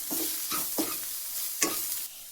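Healthy pasta ingredients being mixed in a pan, a few rhythmic scraping stirs over a light sizzle, close and quiet, about four strokes in quick succession.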